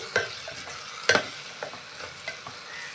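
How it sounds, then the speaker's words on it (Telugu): Onions frying in a pan, a soft steady sizzle broken by a few sharp scraping stirs of a spoon, close and fairly quiet with no voices. "ఇలాగా ఉల్లిపాయలు బాగా వేయించుకోవాలి."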